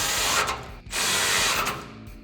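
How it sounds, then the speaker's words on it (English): Bumper bolts on a 2013-2018 RAM 1500, fitted with a Body Armor 4x4 Eco-Series front bumper, are tightened with a 16mm socket. Loud, close bursts of power-tool whirring with brief pauses fill the clip. "This is gonna be a 16mm socket and a 16mm wrench. So go ahead and grab those and tighten them down."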